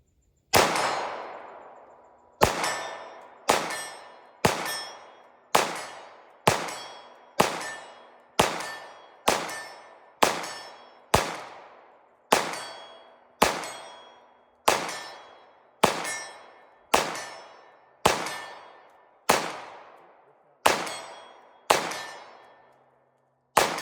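Pistol with a Hayes Cobra ported barrel fired at a 40-yard target, about eighteen sharp loud shots at an even, unhurried pace, each ringing out with a metallic clang and a short decay, with no talk over it.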